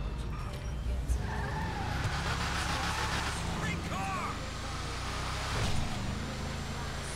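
A fully tuned 1970 Nightshade Camaro Z28 in GTA Online drones steadily while driving, with tire squeals and skids breaking through at moments, and someone talking over it.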